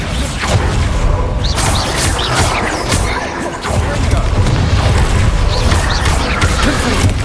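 Bombarda spell explosions in the game Hogwarts Legacy: dense, loud booming blasts and crashing impacts that run continuously over a busy combat soundscape, with speech-like sounds mixed in.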